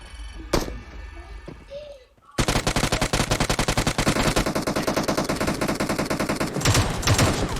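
Sustained automatic gunfire rattles loud and close in a battle royale game around Georgopol, a rapid even burst running for several seconds after a brief quieter stretch with a few shots and a voice.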